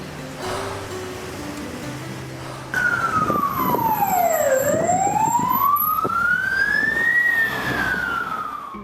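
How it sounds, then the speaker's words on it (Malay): An ambulance siren wails loudly and close by, its pitch sliding down and back up in a long sweep over the rumble of traffic. "Ambulans dah sampai pada waktunya"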